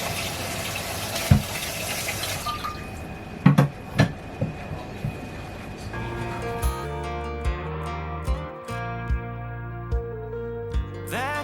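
Peeled, cut sweet potato pieces drop one after another into a bowl of water, each landing as a short plop or knock over a steady watery wash, close by and without talking.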